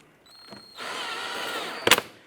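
A power tool snugs down bumper cover bolts on a 2005-2007 Ford Five Hundred, giving one short whirring run that ends in a sharp click, close and fairly loud.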